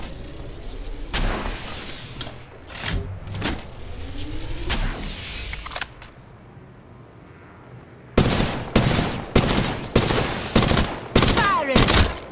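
Gunfire in Apex Legends Mobile comes in sharp bursts: scattered volleys early on, a quiet stretch, then a run of loud, evenly spaced shots near the end.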